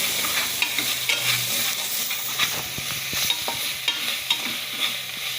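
Prawn biryani masala sautéing in a pan, Kumbakonam style, giving a steady close sizzle with irregular scraping stirs and soft clatters throughout, no voices.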